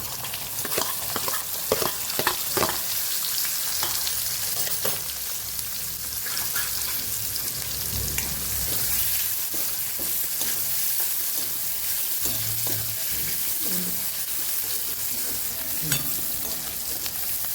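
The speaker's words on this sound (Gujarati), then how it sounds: "જીરું સરસ આપણું તતડી જાય પછી થોડી હિંગ ઉમેરશું અને આપણે ડુંગળી અને મરચાંને સાતરી લઈશું" Onion and green chilies sizzle and crackle steadily in hot oil with cumin and asafoetida in a pan for a Kathiyawadi raw mango curry, with occasional stirring scrapes, close up and continuous.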